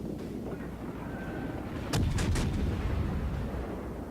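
Main guns of the cruiser Duguay-Trouin firing in World of Warships, a quick ripple of three or four booming shots midway, heavy low rumble lingering over a steady game ambience.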